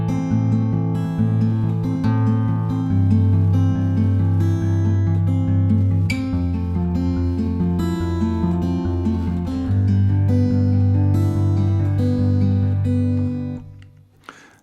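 A strummed guitar plays a steady chord progression, each chord ringing full and sustained, changing every second or two before fading out at the end.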